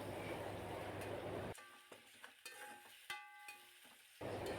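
Mint and ginger garlic paste fry in a pan for masala rice, giving a steady crackling sizzle that fills the start and end, with a quieter middle stretch marked by faint, thin ringing tones and a few soft clicks.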